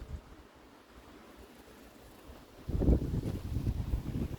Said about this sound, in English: it's getting a bit windy and it's getting late